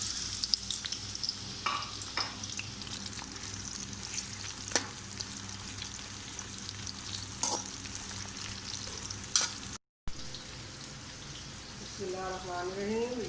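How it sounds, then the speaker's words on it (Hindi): Eggplant pieces fry in hot oil in a kadai with a steady, close sizzle and crackle, broken by a few louder stirring clatters and a brief gap near the end. "तेल में हम फ्राई होने के लिए बैंगन डाल लेते हैं"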